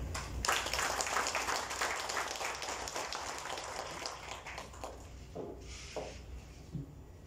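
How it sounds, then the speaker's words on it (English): Moderate audience applause at a digital payments conference, a wash of clapping that gradually thins and fades, with a few scattered claps and faint shuffling near the end. "Once again, round of applause for Mr. Andale"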